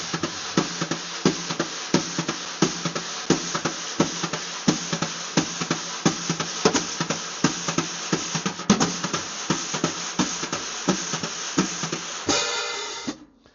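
Wide-spread drum brushes swept and tapped at a medium to up tempo, a steady rhythmic pattern of soft accented strokes over continuous hiss, close and moderately loud, stopping abruptly near the end.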